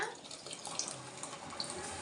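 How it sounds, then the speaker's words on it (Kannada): Water poured onto tamarind for rasam, a faint, soft splashing trickle with a couple of small drips, quiet and close. "ಹಣ್ಣ ನೀರು ಹಾಕೊಂಡ್ಬಿಡೋಣ"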